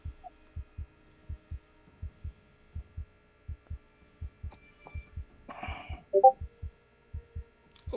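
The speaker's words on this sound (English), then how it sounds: "you distinctly feel the heartbeat as this jar pulsates in your hands" A steady, throbbing heartbeat effect for a pulsating jar in a Call of Cthulhu tabletop game, with low thumps repeating in an even double rhythm over a faint hum. A brief buzzing flutter and a louder beat sound near the end.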